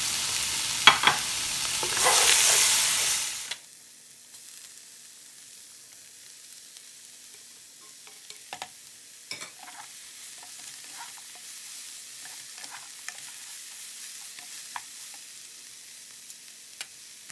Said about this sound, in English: So now let's go ahead and add our coleslaw or cabbage in it.